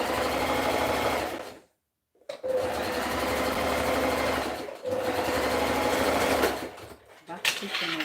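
Sewing machine stitching fabric straps in fast, steady whirring runs, stopping briefly twice before starting again, close and clear, with a voice talking over it.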